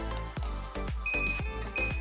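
Short sharp beeps from a house alarm keypad being armed, several clicks and tones spaced roughly evenly, close by and fairly quiet with no talk.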